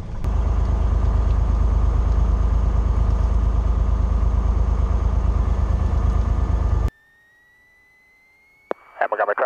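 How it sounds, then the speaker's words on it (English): A small aircraft engine idles with a loud, steady throbbing drone close by, then cuts off abruptly, leaving a faint fading whine before a brief burst of noise. "And we start the engine."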